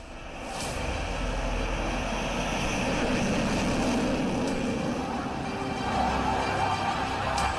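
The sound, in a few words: Tejas light combat aircraft fighter jet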